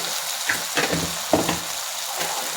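Ground spices with turmeric, sambar powder and garam masala frying in a pan, a steady close sizzle with a few soft stirring scrapes and no voices.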